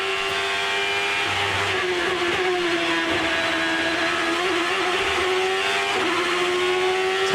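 A 2007 ChampCar race car in qualifying at Surfers Paradise, heard from the cockpit: a loud, continuous high-revving engine whine that holds and shifts pitch slightly, with brief dips and recoveries and no talk.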